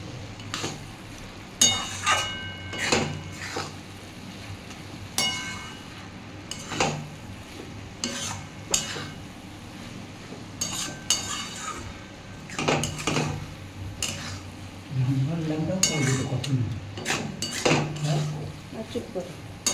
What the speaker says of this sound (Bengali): ওটসটা দিয়ে আমি একটু নাড়াচাড়া করে নেব।